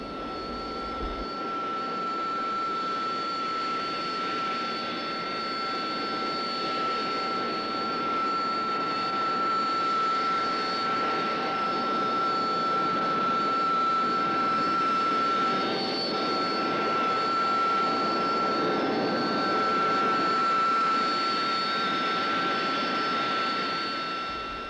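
A Harrier jump jet's engine drones continuously at an RAF airbase, a steady loud whine with high tonal hums that holds for the whole stretch.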